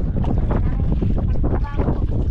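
Strong wind at sea roars and buffets the microphone in a continuous, loud rush, with water and boat noise mixed beneath it and faint voices in the background.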